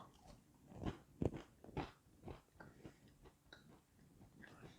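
Faint, close crunching bites into a keto chocolate chip cookie made with coconut flour and a slightly crisp bottom, with a few distinct crunches followed by quieter chewing and no talking.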